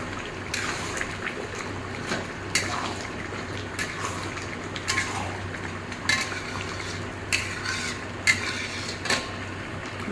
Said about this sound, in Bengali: ঘিটা দেওয়ার পর একবার একটু ভালো করে মিশিয়ে দেবো।